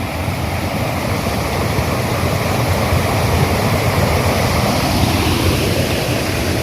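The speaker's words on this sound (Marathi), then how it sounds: "इथे खळखळून वाहणारा पाण्याचा प्रवाह त्याचा आवाज येतोय" Water of a village river rushes steadily over rocks, a continuous close splashing roar with no voices.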